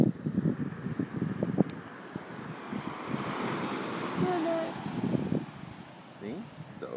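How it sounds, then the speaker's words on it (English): Ocean surf rolls onto a beach, with wind buffeting the microphone and rustling throughout, heard from close by at moderate loudness. "See? It's the ocean."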